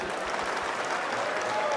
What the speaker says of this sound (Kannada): ಶಶಿ ಸರ್ಗೋಸ್ಕರ ಒಂದು ಜೋರ್ ಚಪ್ಪಾಳೆ.